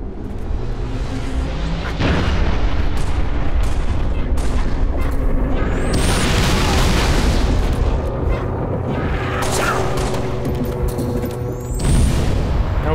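Artillery fire-mission explosions in the Halo Reach video game, a continuous heavy rumble with repeated deep booms and blasts, loud and sustained throughout, with no speech.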